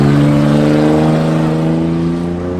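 A truck approaches at a truck meet, its engine a loud, close droning roar that stays strong, then eases slightly and drops in pitch toward the end.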